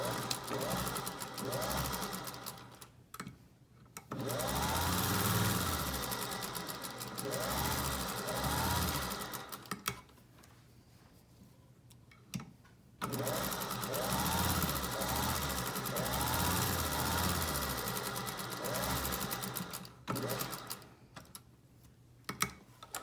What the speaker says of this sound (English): we're going to stitch along this edge here, indicated with the purple dotted line